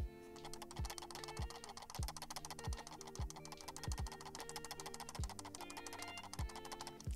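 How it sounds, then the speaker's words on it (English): A shaken Razer Basilisk X HyperSpeed computer mouse rattles in quick, irregular bursts close to the microphone, a steady clicking clatter with regular sharp knocks underneath. "you can hear how annoying the rattle is if I just shake the mouse in front of the microphone"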